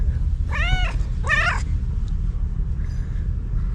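A cat gives two distinct, close meows in quick succession, each a rising-and-falling wail, over a low steady background hum.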